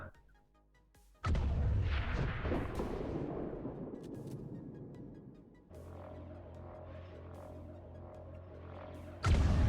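Heavy gunfire rings out in XCOM 2: War of the Chosen, Long War mod, as troops shoot at a device during an Avenger defense mission, a sustained booming barrage that fades and then surges again, with no talking.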